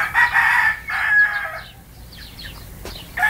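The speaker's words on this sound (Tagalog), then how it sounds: "Ito ang aming broadcock." A broadcock rooster on a farm crows loudly and close by in two strong bursts, followed by softer clucking and other fowl calls.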